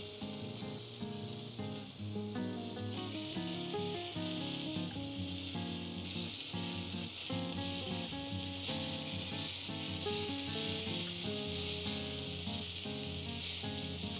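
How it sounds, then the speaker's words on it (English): Pear halves sizzle on a hot grill, a steady bright hiss of frying that runs continuously throughout, close and even, with faint music underneath and no talking. "Now we're going to place the pears, that lovely hot grill, because what you want to do, you're going to bring that deep caramelization"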